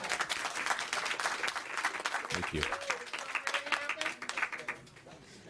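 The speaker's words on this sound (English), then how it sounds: "You can clap this time." Audience at a committee hearing breaks into applause, a dense steady patter of clapping that fades near the end, with a brief spoken thanks over it.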